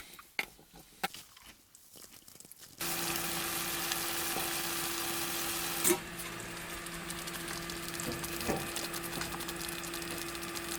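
Steady sizzle of tomatoes, cauliflower and onions frying in a tofu sauce, starting abruptly after a few seconds of small clatter and continuing evenly with a faint tonal hum beneath, at a cold-weather truck campsite.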